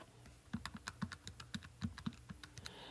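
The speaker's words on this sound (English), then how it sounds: "We're going to type in our calculator." Keys pressed on a calculator to enter a multiplication for a geometry arc-length problem, a quick irregular series of close, crisp plastic clicks and taps with no talking.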